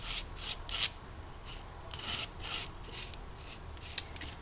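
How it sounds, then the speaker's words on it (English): Paint or medium being wiped across an art journal page, heard as repeated soft rubbing strokes in an even back-and-forth rhythm, close and fairly quiet with no voice. "And I'm just going to wipe it down."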